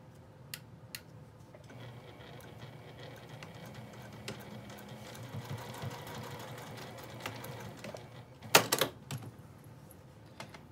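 A sewing machine topstitches along the zipper of a fabric pouch, a steady low mechanical whir with a light rhythmic ticking running for about ten seconds, ending in a brief burst of louder clatter near the close.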